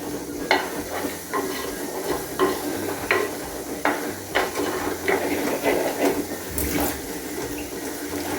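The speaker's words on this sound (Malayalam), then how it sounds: "നന്നായിട്ട് വഴറ്റിയെടുക്കണം." Vegetables sautéing in a frying pan during home cooking, with repeated stirring scrapes and soft sizzle at close range, no talk.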